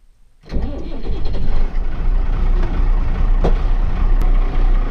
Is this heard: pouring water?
no